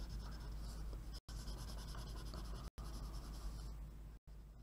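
Coloring in a hand-drawn monster scene on paper, with steady close scratchy rubbing strokes that run continuously, broken by three short pauses.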